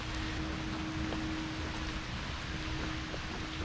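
Steady rain falling on a forested hiking trail, a dense, even hiss filling the whole stretch with faint scattered drop taps and a low constant hum underneath.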